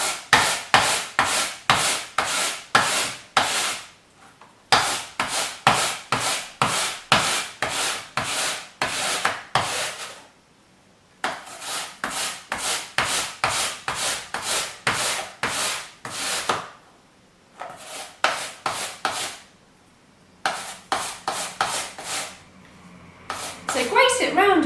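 An apple is grated for a Christmas pudding in quick rhythmic rasping strokes, close and loud, in bursts separated by short pauses.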